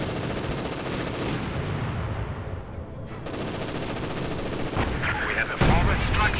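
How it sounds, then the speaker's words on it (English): Heavy artillery from an ISU-152 self-propelled gun pounding a bunker in the Company of Heroes 2 video game, with loud booming blasts and crackling gunfire dense and continuous throughout, with a brief dip before it swells again. "bunker coming under fire from the ISU 152"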